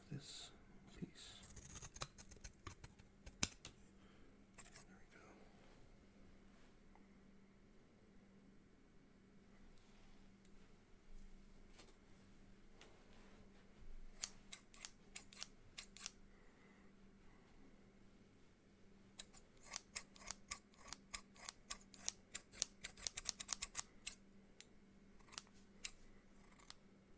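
Scissors snipping through a piece of material in close, quiet ASMR-style detail, with sharp crisp cuts in bursts of rapid clicks, densest near the end, over a faint steady hum.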